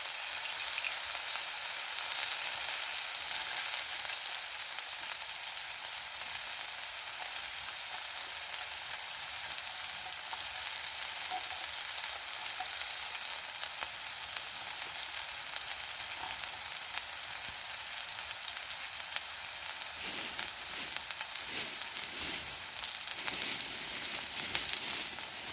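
Meat grilling at a rainy campsite during a typhoon, giving a steady, even sizzle and hiss throughout, with rain pattering softly in the background and no voices.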